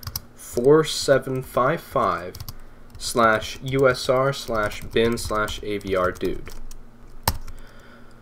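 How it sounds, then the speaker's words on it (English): Computer keyboard keys tapping as terminal commands are typed on a Raspberry Pi, light clicks mostly beneath steady spoken narration. "Type in sudo dpkg-i avrdude and the rest of the extension."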